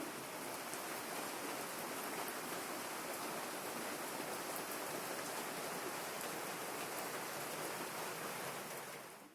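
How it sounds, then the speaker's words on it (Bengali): Heavy rain falls outside in a dense, constant roar that holds at an even level the whole time, with no voices, before easing slightly at the very end. "বাইরে দেখুন খুব বৃষ্টি হচ্ছে"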